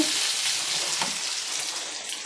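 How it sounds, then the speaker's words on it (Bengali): Bitter gourd (karela bhaji) fries in a pan with an unbroken, close hiss of sizzling oil, steady in loudness, with occasional light stirring knocks. "আজকে আমি করলা ভাজি করতেছি"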